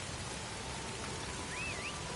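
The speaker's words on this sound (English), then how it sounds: "I like the weather effects that are like it's actually raining" Steady, faint video game rain hisses evenly throughout, with a brief thin whistling tone near the end and no talking.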